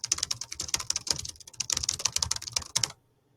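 Keys patter steadily under fast fingers on a laptop membrane keyboard, close and soft, a continuous run of light taps that stops abruptly near the end.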